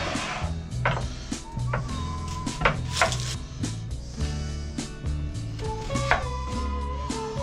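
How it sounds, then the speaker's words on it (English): A knife slices a red onion while cooking cube steak and gravy, making a steady series of crisp taps against a board over low background music. "I'm going to go ahead and slice up this red onion."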